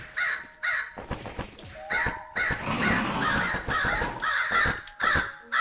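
Summoned crows in the video game Ghostlore caw repeatedly in quick bursts, loud and close, mixed with game combat sound effects.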